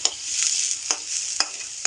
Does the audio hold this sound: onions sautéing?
yes